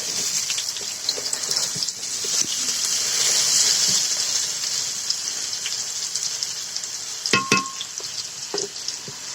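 Mango pieces sizzle and fry in a pan for a sour, spicy, sweet mango pickle while they are gently turned over. A steady high hiss carries under soft stirring scrapes, with a brief clatter near the end.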